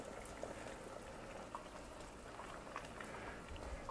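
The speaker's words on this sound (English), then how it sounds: "Now with our water at a nice rolling boil, we want to do a couple of things." A pot of water at a rolling boil with fruit being added for nectarine wine, a dense steady bubbling and seething that fills the whole stretch, with occasional small pops and no talking.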